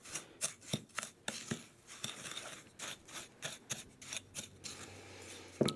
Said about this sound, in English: And we'll just give that a bit of a mix to bring it all together.